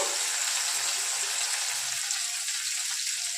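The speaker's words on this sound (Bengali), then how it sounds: "আমি আবার তেল গরম করতে দিয়ে দিয়েছি। তো আমি এবার পেঁয়াজ পাতাগুলো দিয়ে দিলাম কড়ার মধ্যে" Spring onion leaves frying in hot oil in a wok for chicken chatpata, giving a loud, steady, close sizzling hiss that stays even from start to finish with no talking.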